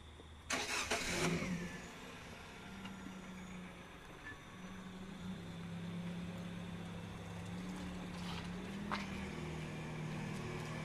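A car engine starts with a loud burst of cranking noise that catches into a steady idle hum, which settles and runs on at moderate level with a few faint clicks over it.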